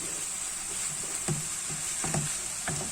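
Vegetable and minced meat filling simmers in a pan as a savory turnover stuffing, a steady soft sizzle with a few brief scraping stirs of a utensil, close and fairly quiet, no voices.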